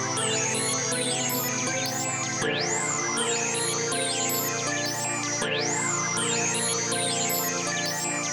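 Minor seventh chord progression in an FL Studio crank-style beat, a sustained chord pad with a bright, bending synth top line repeating in two-bar phrases, loud and steady with no voices.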